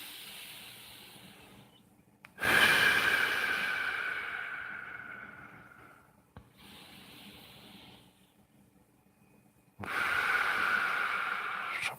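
Deep breathing exercise with long, loud hissing breaths close up, one big exhale running about four seconds, a softer breath after it and another strong breath near the end, with quiet pauses between.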